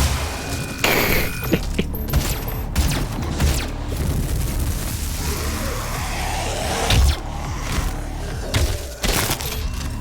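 Grenade blast in the Doom video game, a dense burst of booming, shattering noise layered over steady game sounds, with further thuds and impacts rolling through.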